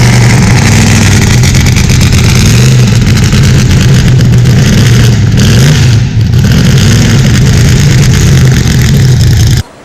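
An unmuffled 1966 Corvette 427 vintage race car engine roars at a steady, very loud idle with a deep rumbling burble and slight rises in pitch, close by, cutting off abruptly at the end.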